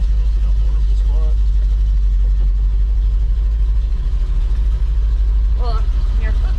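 A 1957 Chevrolet Bel Air driving on the road, with a loud, steady low engine rumble from inside the car throughout and people talking over it.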